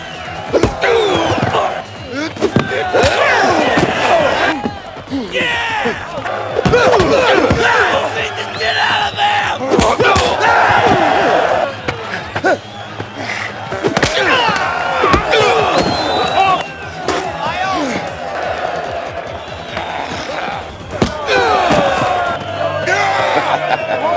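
Fight scene from a Jean-Claude Van Damme film, with a crowd and guards yelling and cheering for a fighter, loud bursts of shouting punctuated by heavy slams and thuds, rising and falling throughout.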